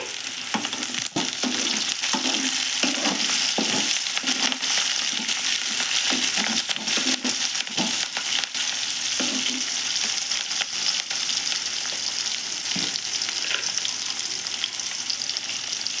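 Green chilies, curry leaves and garlic cloves fry in hot oil in a pan for a spicy egg fry, a loud continuous sizzle broken by repeated scraping and clacking as a spoon stirs them.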